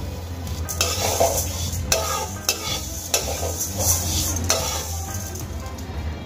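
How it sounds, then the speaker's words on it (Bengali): Split black gram lentils frying in a pan: a continuous sizzle broken by regular scraping and clinking strokes of a spatula against the metal, close and fairly loud. "এবার ডালগুলো আমি ভালো করে ভেজে নেব।"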